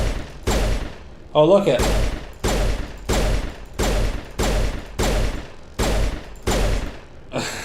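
Gunfire in the video game Mass Effect rings out as about ten loud, evenly spaced shots in a steady rhythm, with a brief remark from a player among them.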